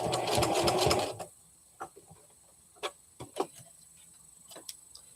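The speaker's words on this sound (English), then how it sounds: "So you just go and stitch along the pointy line." A sewing machine runs steadily, stitching fabric along a marked pointed line, then stops after about a second, leaving faint scattered clicks and taps in a quiet room.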